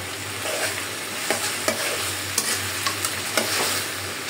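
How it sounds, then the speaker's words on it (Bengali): Ground spice paste frying in a pan for a duck and kochur loti curry, with a steady sizzle broken by regular scraping stir strokes, close and continuous, with no talking. "আমি এই বাটা মশলাটা একটু ভাজার পরে আমি মরিচের গুঁড়াটা দিব।"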